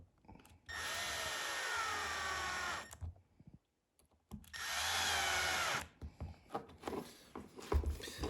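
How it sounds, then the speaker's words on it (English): A power screwdriver whirs in two sustained runs of roughly two seconds each as screws are driven into a 3D-printed PETG throttle servo mount on a Pilot Edge 540 model airplane. A quiet pause separates the runs, followed by light handling clicks. "I'm going to go ahead and just place my screws in. And start to tighten those screws up."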